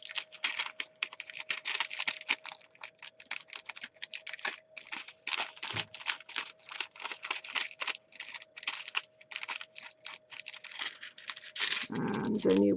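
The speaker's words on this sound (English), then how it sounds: "So you want to kind of scratch it a little bit with your nails, make sure that the foil is coming off." Fingernails scratch foil off a glued bling embellishment in a quick, close run of dry, ticking scrapes, steady with brief breaks, over a faint steady hum.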